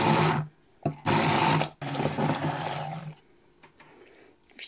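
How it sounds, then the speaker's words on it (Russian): An electric blender runs in loud bursts while melting chocolate with cream, two strong whirring pulses with a short pause, then a longer, slightly rougher run that cuts off into near quiet. "С минуту примерно пробиваем блендером."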